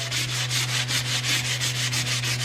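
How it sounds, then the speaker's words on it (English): A stained hardwood floor is sanded to strip off polyurethane, with a close, continuous rasping scrub that pulses in quick regular strokes over a steady low machine hum. "Remember, when you're sanding this down, you're not trying to sand the stain out."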